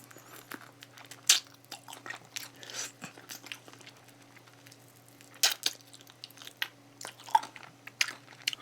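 Crunchy Nene fried chicken being eaten close up, with sharp crispy bites and wet chewing crunches arriving in irregular clusters against a quiet room.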